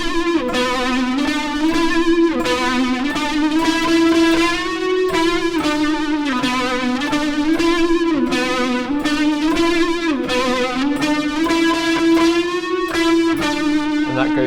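Electric guitar plays a riff as a continuous, steady run of picked notes with an effected, slightly distorted tone, loud and close with no talking.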